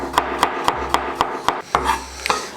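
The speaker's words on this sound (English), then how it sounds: "we're going to crack open our garlic and just gently slice it" A knife gently slicing through cloves of garlic on a cutting board during chicken and mushroom pie prep, a steady series of about ten crisp, evenly spaced chops close up, with a low hum underneath.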